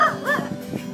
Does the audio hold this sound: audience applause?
no